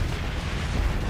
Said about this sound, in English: Another missile.